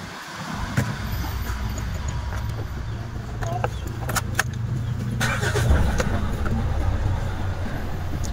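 Mitsubishi Strada pickup engine cranking and starting, then idling with a steady close rumble, a few clicks and clatters above it.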